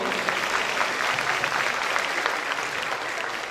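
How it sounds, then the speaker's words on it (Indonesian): A hall full of new university students at a welcoming ceremony breaks into applause, even, sustained clapping from a large crowd that stays loud and steady throughout. "mungkin tepuk tangan dulu buat kita semuanya."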